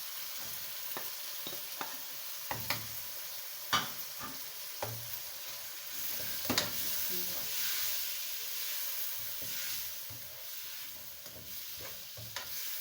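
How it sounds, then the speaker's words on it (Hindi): Spiced masala with tomatoes and onion fries in a pan, a soft steady sizzle broken by scattered scraping and clicking stirs, quiet and close with no talk. "अब इस मसाले को मैं भून लूँगी"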